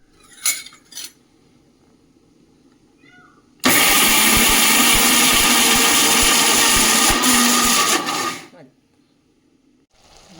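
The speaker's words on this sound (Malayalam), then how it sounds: "ഇതൊന്ന് അരച്ചെടുക്കും." A mixer grinder whirs into a loud, steady grind of spice paste for cucumber thoran, running for about five seconds and then cutting off, with faint kitchen clatter before and after.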